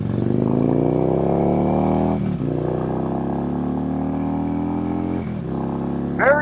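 Harley-Davidson Road King motorcycle engine revving hard at a busy Iowa intersection, a loud steady roar with rising pitch that dips briefly twice between gear changes, close and continuous.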